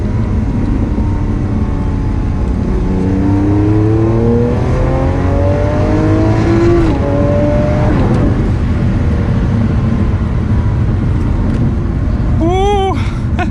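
A Lamborghini Aventador LP700-4 pulls hard, its engine note climbing through rising gear sweeps as it accelerates, loud and close from inside the car, ending with a sharp upward rev flare near the end.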